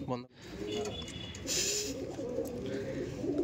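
Pigeons coo softly in low, throaty murmurs, several birds close by, with a brief clatter at the start and a muffled voice in the background.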